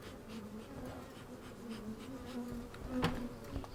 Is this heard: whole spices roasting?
no